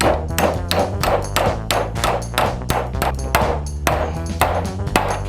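Bolt being hammered into an oak plywood sign, a rapid series of loud, ringing metallic strikes at close range, evenly paced at roughly two or three blows per second.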